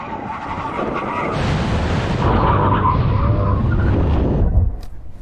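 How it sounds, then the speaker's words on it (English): A Lamborghini roars past with screeching tires and a loud engine, braking hard after a drag race, the noise swelling and then cutting off as it slows. "stay here and see if Mark can actually stop his car properly"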